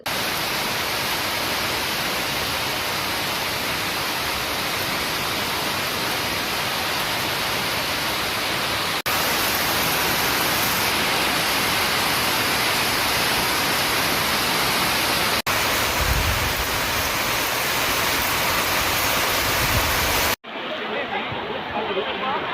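Heavy summer rain pours down in Ooty in the Nilgiris, a dense, steady roar of downpour that continues without a break and then drops sharply near the end.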